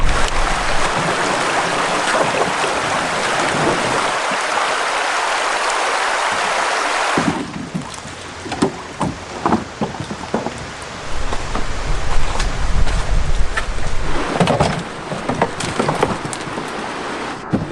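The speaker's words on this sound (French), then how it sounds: "Le canoë avance maintenant sur une partie plus large de la rivière." A canoe glides along a wide river in the Canadian wilderness: a steady wash of rushing water at first, then irregular paddle splashes and drips close by over softer flowing water.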